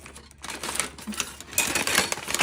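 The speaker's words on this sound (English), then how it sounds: "I'm loving this vellum packaging, even though y'all it is super loud." Vellum packaging is torn open up close, giving loud crinkling and crackling in uneven bursts that grow busier and louder toward the end, with no talking.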